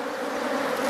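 Honeybees buzz as a dense, steady drone at an opened hive during colony splitting, close and loud throughout with no talk.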